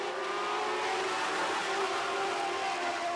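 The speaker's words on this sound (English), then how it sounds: "As the cars go down the front straightaway, you can hear them making one shift." Six sprint cars running motorcycle-derived six-cylinder engines roar down the front straightaway in a Northern Lightning Sprints heat race, a loud, sustained, buzzing high-revving engine note with a subtle shift in pitch partway through.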